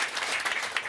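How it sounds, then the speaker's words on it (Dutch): A brief burst of audience applause for a children's mayor at a live event, a short dense patter of clapping heard at moderate distance. "Applaus voor onze kinderburgemeester."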